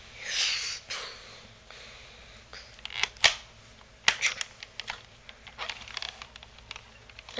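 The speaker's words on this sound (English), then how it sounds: "the ball shoot out. Okay, the bullets are shot." Toy gun shooting out balls as bullets, a few sharp snapping pops around the middle, then lighter plastic clicks and rattles against a quiet room.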